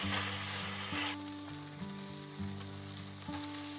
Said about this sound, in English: I'm frying the bacon